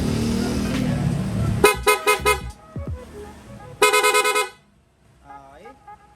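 A Honda Click V3 scooter fitted with a loud horn honks in a rapid burst of several beeps, then another quick burst, loud and close after engine noise fades; a faint voice is heard near the end.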